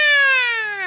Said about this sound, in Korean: 저 고양이 왜 이렇게 귀엽니?